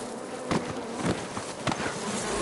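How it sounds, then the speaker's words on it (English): A swarm of bees buzzes around a character in the Metal Gear Solid 3 video game, a dense insect drone with several sharper bursts as the swarm surges, moderately loud and without talk. "he's literally being like stung by all kinds of fucking bees"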